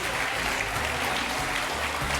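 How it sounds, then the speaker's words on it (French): A TV game show studio audience applauds a contestant in a steady, dense wash of clapping that carries unbroken and fairly loud from start to finish. "on peut l'applaudir fort, Céline."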